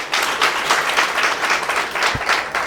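An audience at an RCM success-story event gives steady, vigorous applause, continuous crowd clapping with no voices over it.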